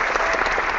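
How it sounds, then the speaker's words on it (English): A short burst of steady applause from an audience at a personal development mastermind session, filling the whole moment with dense, even clapping. "Round of applause."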